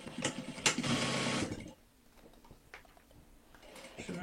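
Sewing machine running fast, stitching fabric for a bucket hat, a dense rapid whirring burst for about a second and a half, then quieter light clicks and handling sounds.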